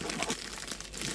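Crinkling plastic packaging being pulled apart while unboxing Koss Porta Pro headphones, a dense, continuous rustle and crackle up close and fairly loud, with no talking over it.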